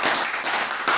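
An audience claps together in a short, dense burst of applause, steady and fairly loud throughout the moment.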